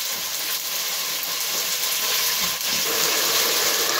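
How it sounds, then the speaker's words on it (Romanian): Chopped onion sizzles in hot oil in a cast iron pot for a pork and vegetable stew, a loud, steady hiss of frying that fills the whole stretch without talk. "Punem acolo ceapa și o cărcălim aproximativ un minut"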